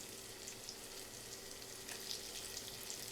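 Coriander greens hit hot oil with frying onion and garlic for a bhaji, a steady, dense hiss of sizzling at even loudness with no clear breaks and no talking.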